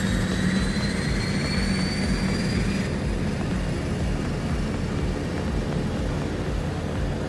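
Beechcraft Starship turboprop engine running up after start, a loud, close, continuous turbine roar with high whining tones that shift and fade partway through over a steady low rumble.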